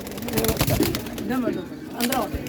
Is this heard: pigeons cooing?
yes